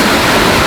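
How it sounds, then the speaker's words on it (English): A large irrigation sprayer throws water over a garden with a loud, steady rushing hiss, broad and unbroken like a waterfall, with some wind noise mixed in. "that big irrigation sprayer you're seeing behind you"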